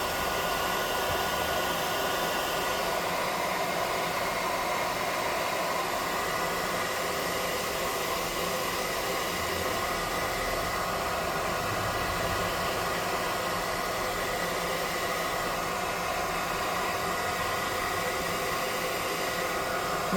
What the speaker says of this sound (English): This is the +5 hot air gun of burning.